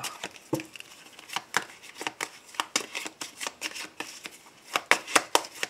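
Tarot cards shuffled and drawn by hand, a rapid series of crisp, close papery flicks and slaps in an uneven rhythm, with no talk over them.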